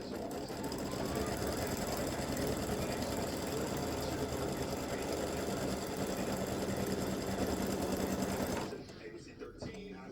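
An embroidery machine sews a tack-down line on an elf legs and bow applique design, with a continuous close, busy mechanical stitching chatter that holds steady for about nine seconds, then cuts off into quiet.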